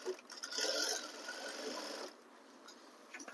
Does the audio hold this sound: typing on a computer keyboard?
no